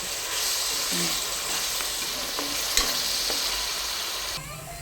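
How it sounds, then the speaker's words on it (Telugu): Ginger paste fries in a pan while it is stirred continuously, producing a dense, even, close sizzle with occasional spoon scrapes and a small knock before it quiets slightly at the end. "అప్పటి వరకు ఇలాగ కలుపుతూ వేపుకుందాం"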